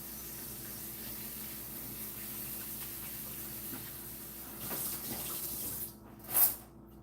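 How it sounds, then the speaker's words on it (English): Running tap water pours steadily over rice being rinsed in a home kitchen, a continuous hiss with a brief louder splash near the end. "So I'm just washing the rice."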